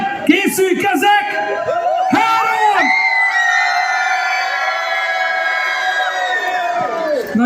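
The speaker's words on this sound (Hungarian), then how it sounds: "3-ra egy nagy sikítás" A concert crowd at a show lets out a big scream on cue, a dense wall of high shrieks and whoops sustained loudly for several seconds after a burst of scattered shouting.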